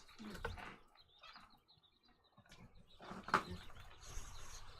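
Month-old chicks chirping faintly in short scattered peeps at a backyard flock, quiet and intermittent against light background rustling.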